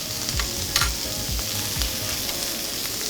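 Beef-and-cheese yakitori skewers sear in olive oil in a non-stick pan, a steady close sizzle with soft scraping and nudging sounds as the skewers are moved around, no talking.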